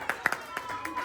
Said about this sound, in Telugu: క్లాప్.